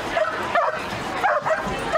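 At an outdoor dog jump competition, a dog gives repeated sharp barks and yips with short whimpers between them, close and fairly loud over background crowd noise.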